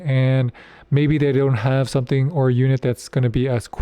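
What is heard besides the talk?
None of the usual background noises is heard.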